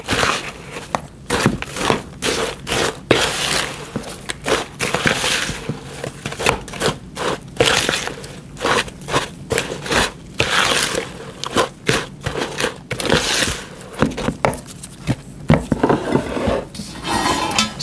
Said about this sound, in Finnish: Sitten mä vaan sekoitan nämä yhteen.